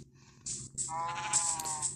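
A sheep in the Minecraft video game bleats in a short wavering call, clear and fairly close, with no talking over it.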